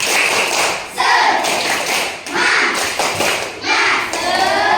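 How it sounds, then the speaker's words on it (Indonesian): Classroom of children doing the "tepuk semangat" clapping chant, rhythmic bursts of group claps in a repeating pattern with young voices chanting along. "Coba kita tepuk semangat biar semangat lagi belajarnya."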